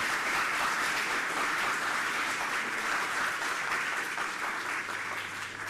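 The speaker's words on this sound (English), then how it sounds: "Let's give her a round of applause" Steady, dense applause from a symposium audience in a large room, sustained at an even level throughout with no gaps.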